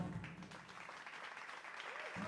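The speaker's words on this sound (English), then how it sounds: "There's a cheer." A faint, distant crowd cheer with clapping-like texture plays as a sound effect, low in level and briefly overlapped by a voice at the start and end.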